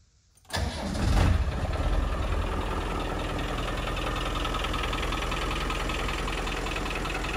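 A 1996 Land Rover Defender 90 with a 300 TDI diesel engine cranks briefly and catches, then settles into a steady, loud, close-up diesel idle with a rough knocking texture.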